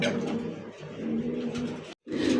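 Grizzle pigeons coo in a steady, soft murmuring run of low throaty calls, close by, with a brief gap near the end before the cooing resumes.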